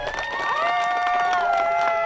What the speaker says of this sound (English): I'm gonna keep y'all clapping until I feel y'all clap loud enough.